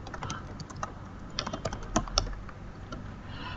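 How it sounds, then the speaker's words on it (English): Rapid, close clatter of computer keyboard keys as code is typed in the Vim editor, an uneven run of crisp clicks and a few sharper taps with no voices. "I start typing cout again."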